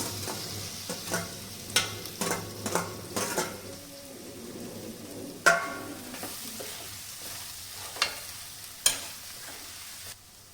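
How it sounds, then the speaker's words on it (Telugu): Already fried okra pieces are stirred into masala frying in a pan, making a close, loud sizzle broken by repeated scraping strokes and metal clinks of a spoon against the pan. "ఆల్రెడీ వేయించిన బెండకాయ ముక్కలు కూడా అందులోకి వేసేసుకుందాం"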